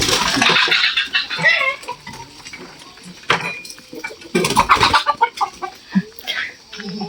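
Chickens clucking and squawking in a village coop as the door is opened, several birds close by with irregular bursts of calls and flapping, some fainter clucks between.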